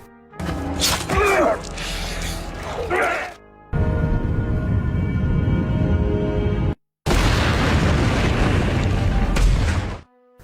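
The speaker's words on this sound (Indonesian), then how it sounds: "Akhirnya Dragovic tewas dan meledak bersama helikopter di tempat itu." A helicopter blows up in an action film, with heavy booming blasts and roaring debris noise in loud sustained bursts separated by abrupt cuts to silence, with some shouting voices early on.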